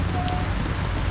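Steady rain falls on a wet day during a commute home, a constant broadband hiss of drops with a low rumble underneath, close and continuous with no talking.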